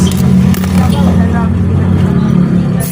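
Engine running steadily after starting, a strong low drone with a steady hum throughout, close and loud, with voices talking over it.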